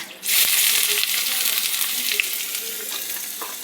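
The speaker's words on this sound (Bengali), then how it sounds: "তেল গরম হয়ে গেছে, গোটা গরম মশলাটা দিয়ে দেব।" Whole garam masala spices dropped into hot oil in a home kitchen pan, giving a steady, close hiss of sizzling frying that starts abruptly and holds, with faint stirring clicks.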